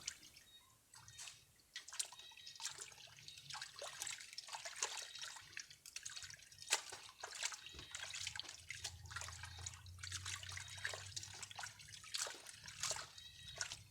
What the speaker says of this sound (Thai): ถ้าไม่แช่ เราก็นำมาล้างเลยนะครับ ล้างทำความ สะอาด